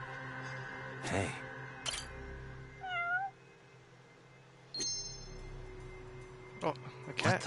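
In the PS5 game Judgment, a cat gives several short meows, spaced apart and moderately near, over a quiet game ambience with occasional sound effects and voices.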